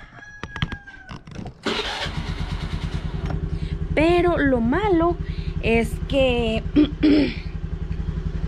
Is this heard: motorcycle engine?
yes